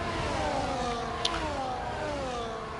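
Race cars setting off on a formation lap in a racing video game, their engines whining and rising together in a smooth, layered drone that stays steady, with a faint blip partway through.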